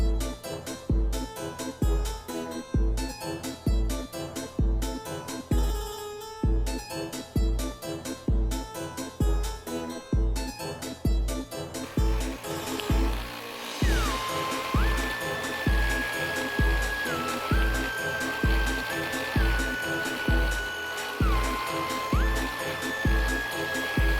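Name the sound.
embroidery machine stitching quilt border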